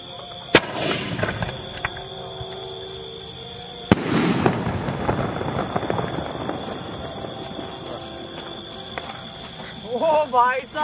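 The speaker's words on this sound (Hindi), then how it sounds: "तो गाइस अब बारी है सुपर नाइस स्काई शॉट की, देखते हैं इसको जला के क्या चलता है" A Diwali sky shot firework explodes with sharp loud bangs, one early and another mid-clip, followed by crackling bursts and whistling squeals near the end, with outdoor background noise throughout.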